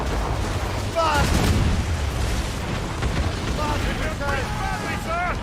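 Naval cannons boom repeatedly in a broadside exchange between sailing warships in Assassin's Creed Rogue, with sustained heavy rumble beneath shouted commands.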